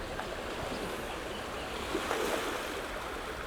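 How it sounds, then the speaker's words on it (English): Ocean waves wash steadily along a rocky shore with seaweed pools, a broad continuous surf hiss at moderate distance with no voices. "I can hear the ocean."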